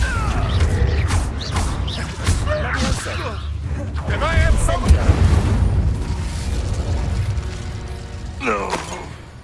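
A single Confringo blasting spell in Hogwarts Legacy bursts with a booming explosion over game effects and music, mid-loud, amid scattered creaks and a voice-like sigh.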